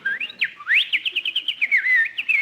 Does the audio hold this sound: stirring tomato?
no